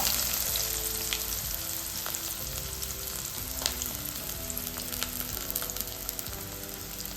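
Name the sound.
mustard seeds and onion frying in oil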